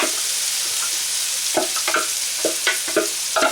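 Loud, steady sizzling of freshly blended curry paste in a hot pan with scraping and stirring clatter over it, close up and continuous.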